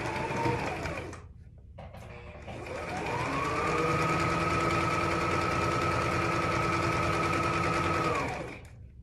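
A sewing machine stitches a child's hat with a quarter-inch seam, its motor whirring steadily and loud for several seconds after a brief start and pause, then winding down.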